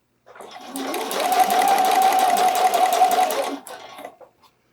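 A sewing machine runs steadily for a few seconds while stitching a bralette with edges held by pins, a close, even whirring hum that starts and stops cleanly.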